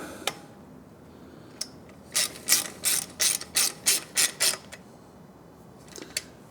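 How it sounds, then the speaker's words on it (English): A ratchet tightens a bolt on the exhaust of a Triumph Speed Twin 1200 during an X-pipe install: about nine quick, loud, evenly spaced clicking bursts, with a few isolated metallic ticks before and after. "I'm going to screw the bolt in. And tighten it down."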